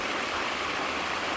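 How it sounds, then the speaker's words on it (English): Water flowing across a pond spillway, a constant rushing hiss like a small stream or waterfall, steady and fairly close with no other sounds. "where you see the water flowing across that spillway"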